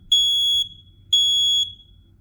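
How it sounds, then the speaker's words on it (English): Two loud, steady beeps from a smoke alarm being tested, each about half a second long and separated by a short pause, sounding alone with no talk. "This one actually does 3 beeps, but this one does 16 beeps, as you saw in the footage."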